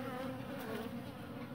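Honey bees in a queenless colony buzz around a queen cage, a steady close, soft insect drone with no talk.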